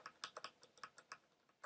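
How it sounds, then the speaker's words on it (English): Quick, close clicking of computer keyboard keys, about a dozen light taps in an uneven rhythm, crisp and quiet with no voices. "By using the left and right arrow keys, I can navigate"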